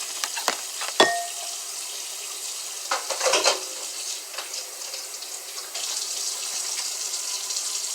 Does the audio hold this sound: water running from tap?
yes